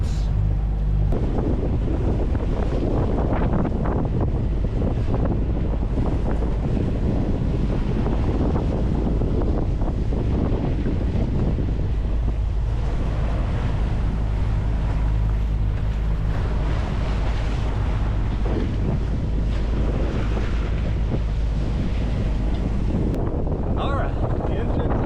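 Strong wind and rough sea while sailing a sailboat in apparent winds of 20 to 24 knots, a constant loud roar of wind buffeting the microphone over rushing water, with no clear gaps.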